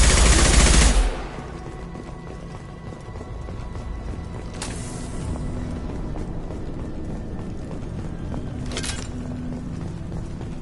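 Gunfire in the Mass Effect 2 video game starts with a loud burst of shots, then two sharp single cracks sound farther apart over a low background of combat noise.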